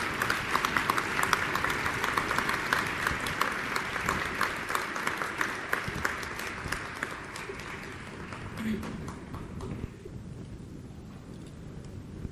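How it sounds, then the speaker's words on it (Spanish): A crowd at a university Teachers' Day celebration claps steadily for over ten seconds, a broad sustained wash of applause that slowly softens toward the close. "Fuerte aplauso, por favor"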